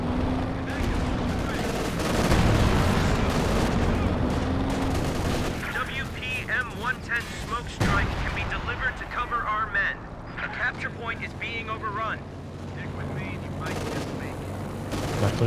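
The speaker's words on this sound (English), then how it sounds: "Drops the incendiary bombing run." An incendiary bombing run strikes during a Company of Heroes 2 match, with heavy blasts and crackling fire layered over bursts of battlefield gunfire, while a commentator talks throughout.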